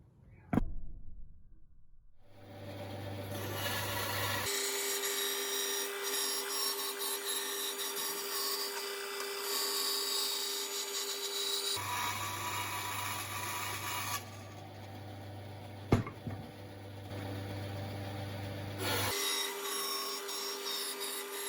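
Pine boards being cut into side pieces for a wooden step stool, with a loud continuous power-tool whine and rasping cut running in long stretches, a sharp knock near the start and another midway.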